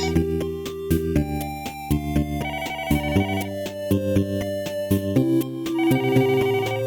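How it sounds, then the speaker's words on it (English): A telephone rings in a hotel room during a Japanese suspense drama, a repeating electronic ringtone melody with steady chiming notes, fairly loud and clear with no talk over it. "The phone is ringing."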